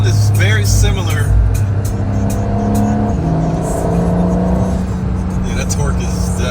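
Porsche 911 GTS T-Hybrid engine pulling hard under acceleration, a loud, steady exhaust drone with rising harmonics that shifts pitch partway through, sustained throughout with a voice talking over it.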